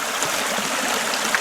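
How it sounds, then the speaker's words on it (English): Small creek running over exposed rocks on a dry-season forest trail in Pittsford, Michigan, a steady close wash of flowing water with no voices. "Just a little creek here"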